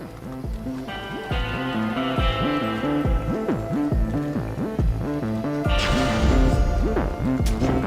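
A steady, low throbbing heartbeat-like pulse in Hades II, repeating rhythmically under a humming musical bed, with a brighter swell near the end and no speech.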